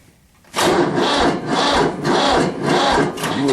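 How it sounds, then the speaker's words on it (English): A tractor engine with a nearly dead battery cranks in slow, labored surges, about five sluggish turns dragging one after another without catching, loud and close. "that battery's about dead"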